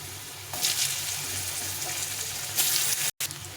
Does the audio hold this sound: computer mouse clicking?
no